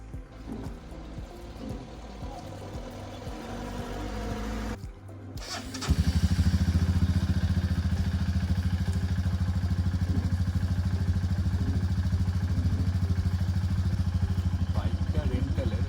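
A rented motorcycle on a Himalayan mountain road near Nathula Pass, East Sikkim, idles quietly before its engine starts and settles into a loud, steady throbbing run; a voice speaks over the early part.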